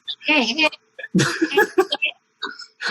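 A voice imitates a puppet cat's hoarse, comic cough in a few quick bursts, with other people talking around it.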